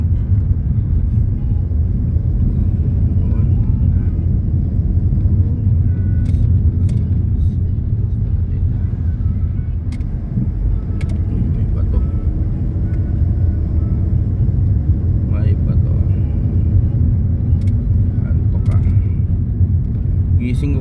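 Steady low rumble of morning rush-hour road traffic in the Philippines, engines droning continuously with occasional passing vehicles and faint clicks, people talking over it.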